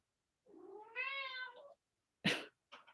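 A cat cries from atop a table indoors: one drawn-out, rising and falling meow, followed by a short sharp noise and a faint trailing bit, with no one talking.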